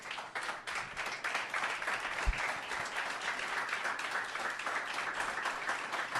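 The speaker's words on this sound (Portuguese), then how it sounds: "Dê um aplauso a Jesus." Worshippers at a Portuguese-language family church service applaud, a fairly faint but steady wash of many hands clapping that holds for several seconds without letting up.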